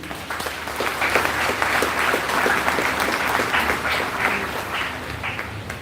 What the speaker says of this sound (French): Et je voudrais que nous nous acclamions.